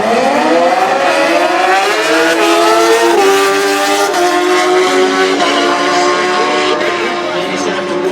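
A Suzuki GSR 950 drag racing motorcycle launches at a drag strip, its engine screaming loudly and rising in pitch through repeated gear changes, with a commentator talking underneath.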